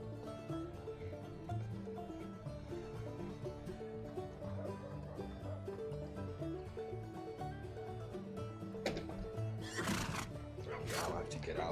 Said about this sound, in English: I'll have to get out and find that horse clop and tone that down some. It's too damn loud.